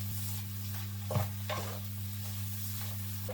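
Onions and mushrooms sweating in olive oil with a bay leaf in a pan, a soft steady sizzle with a couple of brief stirring scrapes, close and quiet over a constant low electrical hum.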